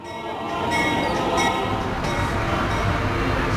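The Indian Pacific passenger train runs along the line, a loud, steady rumble of wheels and carriages swelling in and holding close, with no voices.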